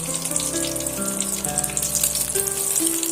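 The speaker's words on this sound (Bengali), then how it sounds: "ডিমগুলো আমার এখানে ভাজা হয়ে গেছে" Eggs frying in hot oil in a pan give a steady close sizzle and crackle under soft background music, with no voices.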